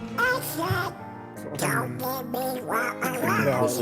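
A man imitates a duck with a string of loud, nasal quacks close to the microphone, several calls following one another quickly.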